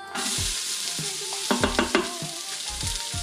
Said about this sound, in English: So I put oil in it and saute.